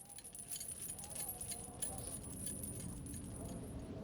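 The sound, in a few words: bunch of heavy rusty keys jangling on a ring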